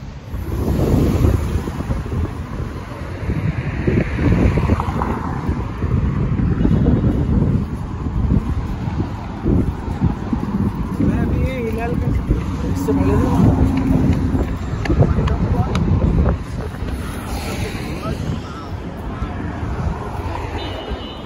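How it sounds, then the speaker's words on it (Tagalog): Strong wind in Sharjah, UAE, buffets the microphone in heavy low rumbling gusts throughout, with people talking intermittently underneath. "Sobrang lakas ng hangin"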